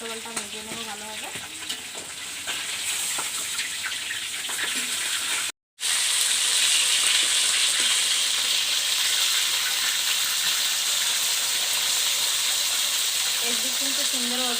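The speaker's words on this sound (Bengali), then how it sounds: "এখন মাছগুলো উল্টো পাল্টা ভেজে নেবো ভালোভাবে" Rohu fish pieces coated in ground spice paste fry in a pan for a village-style masala fish curry, giving a steady, loud broadband sizzle and hiss with occasional stirring clatter and a brief cut partway through.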